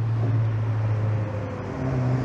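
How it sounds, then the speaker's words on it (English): A classic Alfa Romeo drives past on a club road run, its engine a steady low hum with traffic-like rumble throughout. "Here comes the Alfa Romeo."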